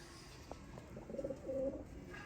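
Ferozpuri pigeons give a few soft, low coos, close and faint, with no voices.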